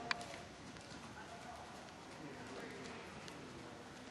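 A green three-year-old cross horse clip-clops softly under a rider during a riding clinic at Otterbein University, the hoofbeats faint and steady against an indoor arena's background hum.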